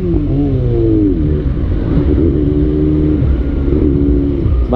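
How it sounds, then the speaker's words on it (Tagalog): A motorcycle engine revs and hums loudly up close in traffic, its pitch rising and easing in steady waves with no talking. "Hindi lang dahil sa gusto lang natin ibomba yung motor natin"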